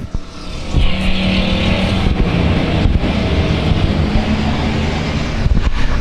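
Race cars at South Texas Speedway roar off the start together, a loud, sustained engine drone of several cars that swells and holds steady throughout, with wind buffeting the microphone.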